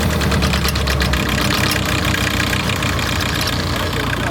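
A prepared 1.9 TDI diesel engine with an injector problem idles steadily just after starting, a loud, continuous low rumble with a rough knocking texture that keeps running evenly without any revving.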